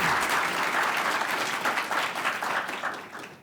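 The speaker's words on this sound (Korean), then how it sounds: "박수로 맞이해 주시기 바랍니다." Audience applause welcoming a Seoul High Court senior judge to the stage at a mock trial competition, a dense, steady clatter of many hands that tapers off toward the end.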